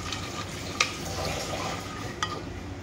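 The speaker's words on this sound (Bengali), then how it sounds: "তো এটাকে আমি একটু নাড়িয়ে চাড়ে বসিয়ে দিব" Soaked rajma in water in a pot, stirred with a utensil that gives two light clinks against the pot over a low steady background, quiet and close.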